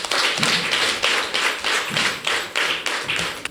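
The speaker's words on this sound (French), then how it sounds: "Ça s'applaudit." A crowd at a women's political party gathering breaks into rhythmic clapping, steady and close, with regular pulsing bursts of applause and no talking.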